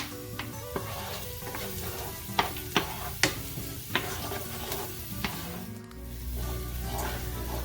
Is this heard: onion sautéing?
yes